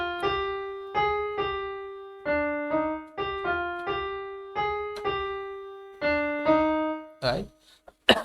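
Keyboard playing a passage from a song at a fast pace, about a dozen sustained single notes struck one after another with clear decays, ending in a short noisy burst.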